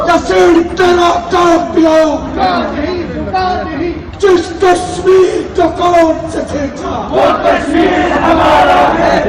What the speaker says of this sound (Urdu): مظاہرین نے مودی سرکار کے خلاف اور کشمیر کی آزادی کے حق میں نعرے بازی کی۔